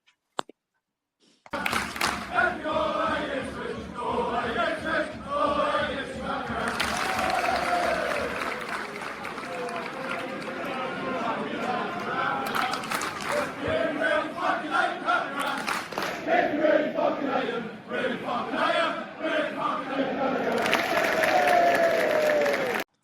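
A large crowd chants and claps loudly and continuously, a dense roar of voices and hands that swells slightly toward the end.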